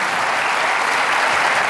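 Studio audience applause on a French TV variety show, a loud, dense, even wash of clapping that fills the whole stretch.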